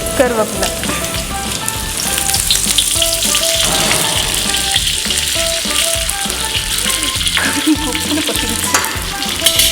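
Mustard seeds, dried chillies and curry leaves fry in hot oil for a Tamil-style tempering, with a dense, continuous crackling sizzle that stays loud and close throughout, alone with no voices.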